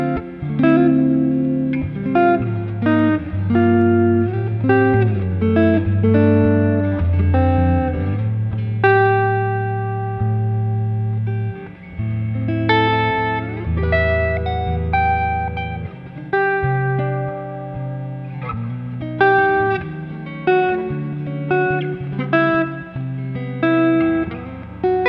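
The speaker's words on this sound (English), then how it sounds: "The tones that you get out of this guitar are very nice." A sparkle white Firefly FFPTH electric guitar with P90 pickups plays a melodic, effects-laden line with reverb and slight distortion, notes and chords ringing clearly without any voices.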